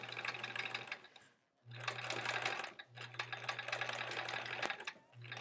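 A sewing machine stitches a foundation paper pieced quilt block: steady, rapid mechanical whirring in long runs with brief pauses between, close and alone.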